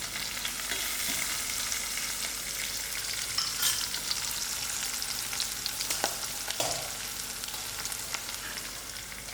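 A dhal dish fries in a pan while it is stirred, a continuous near sizzle with scattered crackles and the occasional scrape of the spoon, with no voices.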